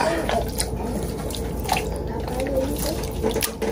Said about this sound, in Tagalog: So kaunti lang ating gagamitin tubig sapagkat magkakaroon siya ng sarili niyang tubig.